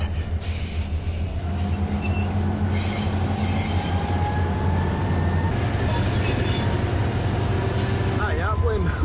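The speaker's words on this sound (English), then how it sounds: "There's train noises." A heavy train starting to move rumbles low and steady on the rails while metal wheels squeal in drawn-out rising tones, with voices faintly audible in the mix.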